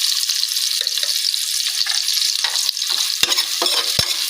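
Onions sizzle steadily in hot oil as kasuri methi (dried fenugreek leaves) goes in, with a spoon stirring and scraping the pan in a few sharp knocks near the end, and no talking.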